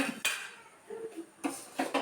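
Kitchen dishes and metal pots knock and clink together nearby in a handful of sharp, irregular bursts with quiet gaps between them.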